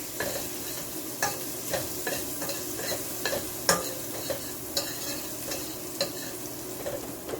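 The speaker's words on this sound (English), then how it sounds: "So this is frying up nicely." Food sizzling steadily in hot coconut oil, with a utensil scraping and stirring the pan every second or so, close by, no talking.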